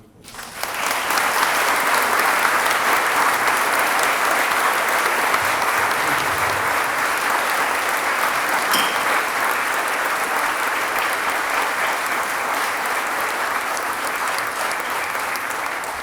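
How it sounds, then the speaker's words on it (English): A large audience applauds steadily and loudly, sustained clapping that holds for the whole stretch without any talking. "Would you give them a round of applause?"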